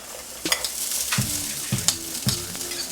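Four cups of freshly cooked quinoa stir frying in a pan, a continuous close sizzle with rhythmic scraping stirs about every half second.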